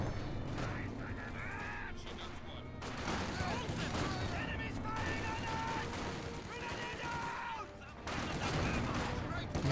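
Infantry rifle fire in a multiplayer real-time strategy match, a dense crackle of shots and volleys under a continuous commentator's voice, with other battle noise mixed in.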